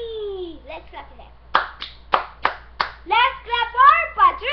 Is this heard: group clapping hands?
yes